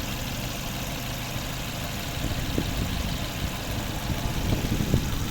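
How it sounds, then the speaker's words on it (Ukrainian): A 2008 Mercedes B200 with a 2.0-litre petrol engine and automatic gearbox idles steadily with a low, even rumble and a faint mechanical ticking, running alone without voices. "Ось робота двигуна."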